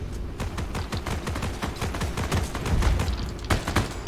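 Dense gunfire in the video game Heroes & Generals, a rapid, continuous barrage of sharp shots overlapping one another throughout, loud and close with no pauses.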